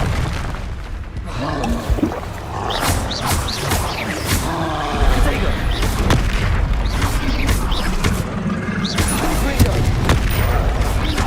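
Spell casting in combat in the Hogwarts Legacy video game: dense, loud booms, bursts and crackling impacts fire in rapid succession, mixed with a voice shouting spell names.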